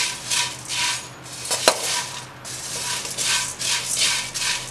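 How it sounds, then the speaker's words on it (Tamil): Puffed rice (pori) being dry roasted in a pan over medium heat, grains rattling and rustling against the metal in repeated bursts of scraping and tossing, close and fairly loud, with no talking. "நம்ம ஒரு பேனில் நம்ம எடுத்து வச்சுருக்கிற பொரி எல்லாத்தையும் வந்து ட்ரை ரோஸ்ட் பண்ணிக்கலாம்."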